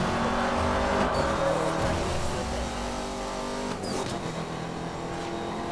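Koenigsegg engine in the racing video game Need for Speed Most Wanted, running on track tires, holds a loud, steady high-revving drone with layered harmonics and brief shifts in pitch.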